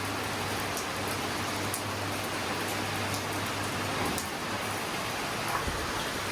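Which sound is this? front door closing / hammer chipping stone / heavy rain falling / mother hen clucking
heavy rain falling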